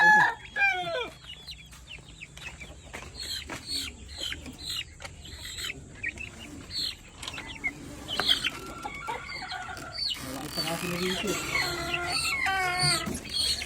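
Native chicken chicks about 45 days old, peeping and chirping in rapid repeated calls with older fowl clucking nearby, a busy, close chorus that grows denser and louder toward the end; voices talk faintly underneath.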